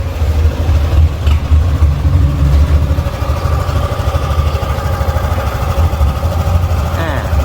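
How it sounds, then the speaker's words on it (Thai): A 2018 Honda Forza 300 scooter with its stock exhaust idles close by with a steady low rumble from the exhaust, constant and fairly loud, with a slight rise in pitch near the end. "ลองฟังเสียงท่อใกล้ ๆ ตัวรถนะครับ"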